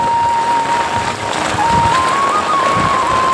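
Heavy monsoon rain pours down steadily on a village paddy field in Odisha during rice transplanting, a loud, continuous wash of drops hitting water and surfaces, close and unbroken, with no talk.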